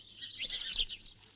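Fortune-telling parrot chirping as it comes out, a burst of quick high twittering chirps, fairly faint and close, with no talk.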